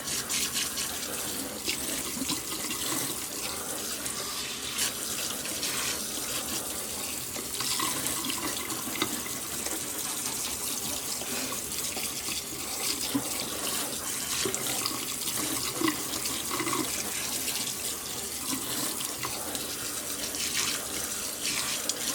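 Tap water runs steadily into a sink while tie-dyed fabric is rinsed, a loud, constant splashing wash that continues unbroken throughout.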